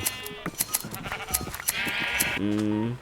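Sheep in the video game Minecraft bleat several times in quick succession, close and clear, over a busy backdrop of short clicks and game effects.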